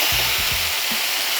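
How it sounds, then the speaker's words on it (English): Seasoning sauce sizzles loudly with dried anchovies and almonds in a frying pan over medium-high heat, a steady close hiss with a few low knocks from the pan at the start. "I want you to pour our seasoning sauce that we made earlier and let that sizzle away for a good 15 seconds on medium-high heat."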